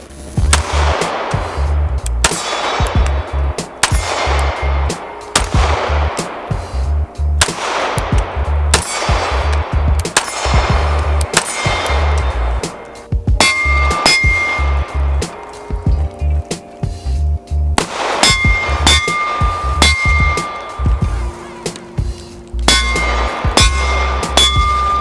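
A CZ P-10 C pistol fired repeatedly at a range, sharp loud reports in uneven bursts with ringing metallic clangs between shots, close and dominant throughout.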